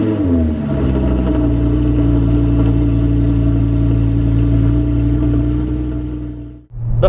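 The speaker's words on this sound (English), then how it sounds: "First things first, I'm going to fire the car up. It's going to be a complete cold start." An Audi R8 V10 with a manual gearbox fires up from a cold start, settling into a loud, steady, high idle with a strong low drone that cuts off abruptly near the end.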